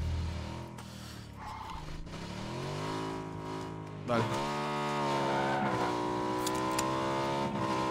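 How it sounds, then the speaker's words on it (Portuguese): Motorcycle engine in a video game, a continuous revving drone with rising and falling pitch sweeps, a sharper surge midway, under brief talk. "Vou pegar a moto."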